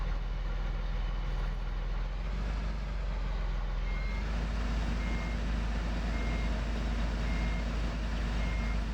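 A truck backing up in Farming Simulator 15 sounds a continuous, evenly spaced reversing beep over a low, steady engine drone, with no talking.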